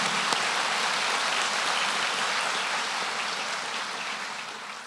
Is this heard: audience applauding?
yes